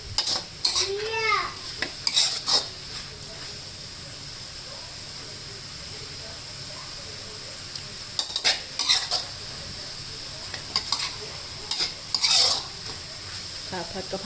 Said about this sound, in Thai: ผัดให้สุกเลยนะคะ ค่ะผัดกะเพรา